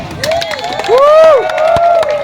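A political rally crowd cheers and shouts in a loud, continuous swell of raised voices, with little distinct clapping.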